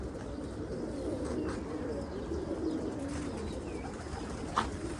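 Homing pigeons in a loft coo steadily in low, throaty calls that overlap throughout, close by, with a faint background hum and a brief sharp click near the end.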